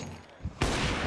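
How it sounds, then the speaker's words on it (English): AWP sniper rifle fire in Counter-Strike during a major semi-final match, a sudden loud shot that cuts in sharply and rings out over steady game noise. "Instead, he gets an AWP bullet."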